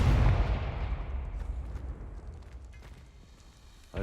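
A Confringo fire spell blast in Hogwarts Legacy bursts with a loud, boomy explosive thump at the start, then trails off into a fading rumble with some scattered crackle.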